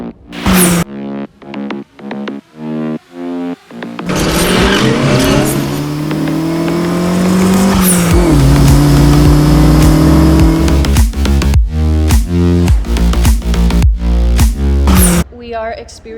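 A Mitsubishi Evo 8 with suspected injector and fuel pump trouble is revved hard, short sharp blips giving way to a long sustained high-rev hold, then more quick throttle stabs, loud and close.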